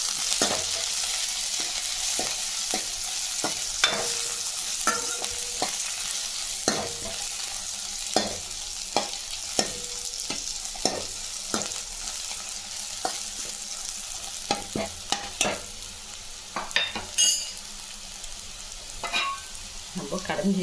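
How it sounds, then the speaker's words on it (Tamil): Tomatoes and curry leaves sauté in a pan for a tomato kuzhambu, a steady frying sizzle broken by frequent sharp scrapes and clacks of a stirring spoon against the pan, close and continuous with no talking. "நல்லா சிவந்து வர அளவுக்கு நல்லா வதக்கலாம். கறிவேப்பிலை போட்டுக்கலாம்."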